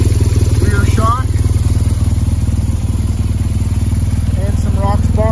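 A 2010 BMW R1200GSA motorcycle engine idles nearby with a loud, steady low throb while someone talks over it.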